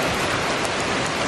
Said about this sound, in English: That is hard rain.